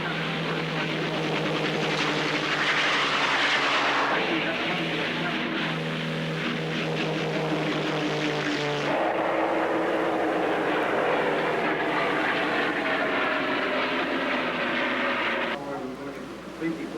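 Piston-engined P-51 Mustang warbirds flying past at a 1985 airshow in Madera, a steady loud propeller drone that shifts in pitch as the aircraft pass, with crowd chatter faintly underneath.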